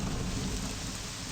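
Rain and a low rumble of thunder in the video game Morrowind, a steady hiss of falling rain over a deep, continuous storm roll, fairly quiet and unbroken.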